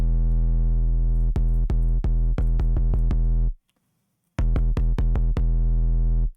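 Overdriven synth sub bass sustains a thick, harmonically rich buzzing tone, cut by a cluster of sharp clicky stabs, a full second of silence, then the distorted sub returning with more stabs; no voices.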